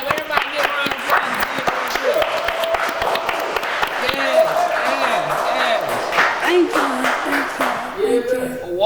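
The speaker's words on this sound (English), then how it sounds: "Everybody go ahead and give a clap." An audience applauds continuously at close range, a dense rattle of many hands that holds steady throughout, with voices calling out over it.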